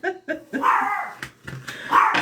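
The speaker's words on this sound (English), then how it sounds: "my dog sees somebody" A pet dog barks in a series of close, loud yaps, a few quick ones at first, then longer strained barks with pauses between them.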